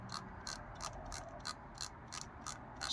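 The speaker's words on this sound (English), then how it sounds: "we'll start first with yours to hear the scroll wheel noise." A Razer DeathAdder V2 Pro mouse scroll wheel turned in steady notches, giving a quiet, regular series of about a dozen small ratcheting clicks close up over faint background hiss.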